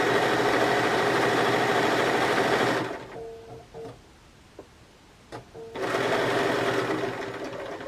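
Sewing machine stitching a seam, a steady loud mechanical whir that stops midway for a few seconds of near quiet with small clicks, then starts again.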